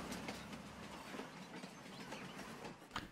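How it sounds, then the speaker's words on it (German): A train rolls past in Farming Simulator 19, giving a steady rumbling wash of rail noise with faint clicking wheel beats, heard alone at moderate loudness. "So, ein Zug fährt also auch."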